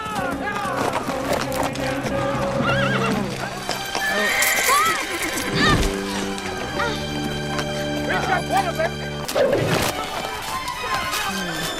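A horse whinnies loudly amid clip-clopping hooves in a Xena: Warrior Princess episode, with dramatic music and voices running throughout.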